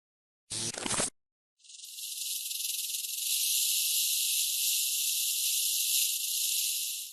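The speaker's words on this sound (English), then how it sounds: "This is a really cool video where a rattlesnake performs tail end percussion." A rattlesnake shakes its tail rattle in warning: a brief opening burst, a short pause, then a loud, steady, high-pitched buzzing hiss that runs unbroken to the end, close and alone with no voices.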